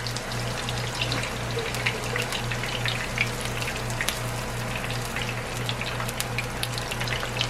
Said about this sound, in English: I wait just a little bit so the tortilla can start cooking, because you do not want it to crack.